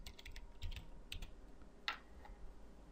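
Quick bursts of keystrokes on a computer keyboard, close and quiet, a few light taps followed by a pause and then another short run.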